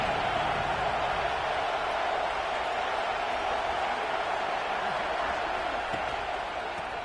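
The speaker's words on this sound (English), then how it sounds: "This crowd trying to show them what it's going to be like all day in this house" A big home crowd in a stadium roars steadily through a football game, a dense, continuous wall of noise without breaks.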